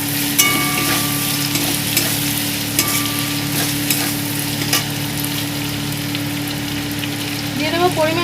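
Chopped tomato fries with a spice paste in a pan for a prawn curry, giving a close, steady sizzle with stirring scrapes throughout and faint talking underneath.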